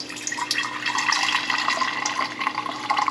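Ponderosa lemon juice, about one and a half cups, pours into a pot in a steady, close liquid splashing stream that runs continuously without any talk.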